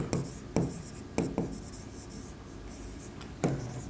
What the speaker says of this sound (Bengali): এখানে লিখবো সজল হিসাব